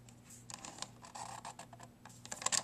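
Paper is cut off at a score line while making an envelope, a short run of close, crisp snips and scratchy clicks, the last ones the loudest.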